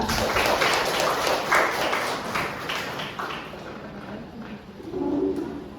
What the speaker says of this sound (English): Give a applause for them.